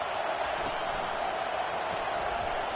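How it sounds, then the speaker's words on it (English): Crowd noise at a high school football game in St. Johns, Michigan: a dense, steady roar of many voices filling the stadium throughout, with no distinct cheers standing out. "This crowd bringing the energy and noise early."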